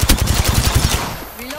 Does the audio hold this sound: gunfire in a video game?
yes